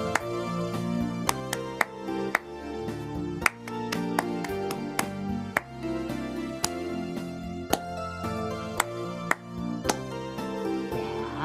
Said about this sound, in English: So then I choose my tempo and we clap the rhythm to it